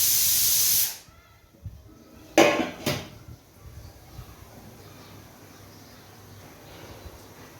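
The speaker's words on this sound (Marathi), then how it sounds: "कुकरची आपली अजून एक शिट्टी झाली" A sharp burst of steam hissing from a pressure cooker whistle, cutting off abruptly, followed by a couple of light metallic clinks of kitchenware.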